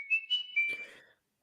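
A whistle jingle, a short melodic whistled tune of a few bright rising notes, heard close and clear before cutting off into silence.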